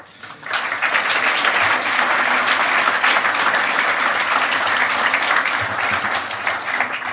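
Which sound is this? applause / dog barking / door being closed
applause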